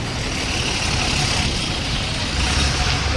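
A road vehicle rumbles past close by, a dense, steady engine and tyre roar holding loud for the whole moment with no voices.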